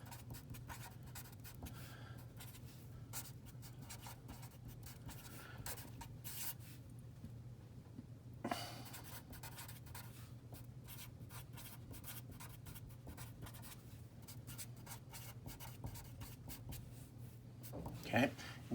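Pen or marker scratching across a surface during a chemistry lesson, a steady run of soft strokes over a constant low hum, with the writing continuing throughout the stretch.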